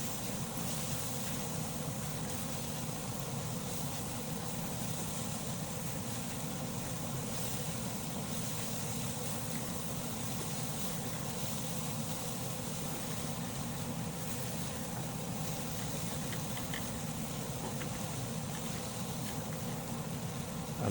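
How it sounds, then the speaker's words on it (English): A kitchen exhaust fan runs with a steady, even broadband whoosh and low hum, unbroken for the whole stretch while spiced paneer cooks on a pan, with no talking. "I turned on my exhaust fan."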